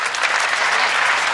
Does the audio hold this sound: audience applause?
yes